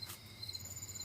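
Crickets chirp faintly in the background, a thin high-pitched steady trill over a low hum, with no voices.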